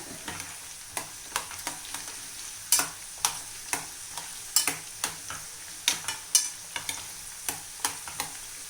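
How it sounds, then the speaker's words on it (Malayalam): Garlic sizzling in hot oil in a pan for a homestyle gooseberry pickle, a steady crackling fry broken by frequent sharp scrapes and clinks of a spoon stirring, close and fairly loud, no voices. "വെളുത്തുള്ളി ഒന്ന് കുറച്ച് കളർ മാറുന്ന വരെ."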